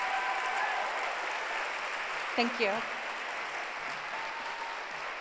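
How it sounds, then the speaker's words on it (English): A theater audience applauds in a dense, steady wash of clapping, while a voice briefly speaks over it midway. "Let's give her another round of applause"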